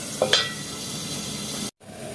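Tangy, spicy tengra fish curry broth bubbles in a pot with a soft, steady seething hiss, a light clink at the start and a brief cut near the end.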